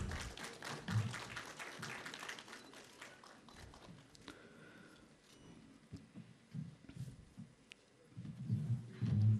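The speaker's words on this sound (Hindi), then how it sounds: "तालियों से उनका स्वागत करिए" Audience at a government governance festival event claps in welcome, a fairly faint, fast patter of many hands that thins out midway and then swells again toward the end.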